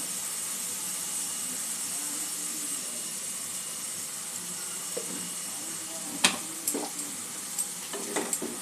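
Onion, ginger and garlic fry with spices under an even, moderate sizzle, and clattering stirring strokes and scrapes against the pan come in toward the end.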